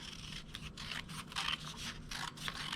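Scissors snip out a paper shape for a craft alien spaceship on a stick, a rapid series of close, crisp cuts in an uneven rhythm with no talking.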